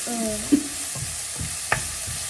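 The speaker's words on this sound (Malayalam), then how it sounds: "എൻ്റെ സവാളൊക്കെ ഇങ്ങനെ കൂട്ടി ഇളക്കാം" Onions frying in a pan for egg biryani, stirred with a few clinks and scrapes of the spoon over a soft continuous sizzle, close and with no talking.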